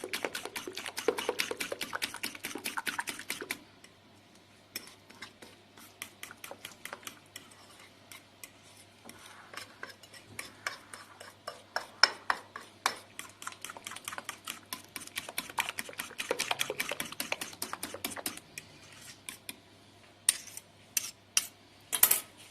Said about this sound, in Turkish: Şöyle iyice çırpalım